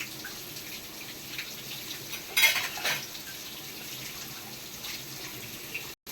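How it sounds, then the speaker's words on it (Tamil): Water runs steadily into a cooking pot while making Kumbakonam kadappa, with a soft, continuous wash, swelling briefly louder midway before settling back; no voices. "கொஞ்சம் தண்ணி ஊற்றி ஆமாம், கொஞ்சம் மசிச்சுக்கணும்."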